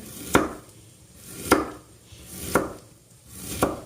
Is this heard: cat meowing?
no